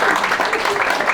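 Comedy club audience at The Comic Strip Live in New York clapping during a stand-up set, a dense, steady patter of many hands filling the room for about a second, with some crowd murmur mixed in.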